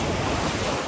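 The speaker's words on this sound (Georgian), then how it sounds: "ძალიან დიდი ტალღა წამოვიდა აქ." Big ocean waves surge onto Milos beach on Lefkada, a loud, continuous wash of surf heavily blended with wind buffeting the microphone over the short moment.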